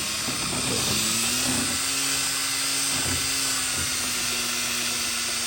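A loud, steady high-pitched drill whine runs continuously, with a churning, sloshing undertone as a big mixing paddle stirs thick material in a bucket.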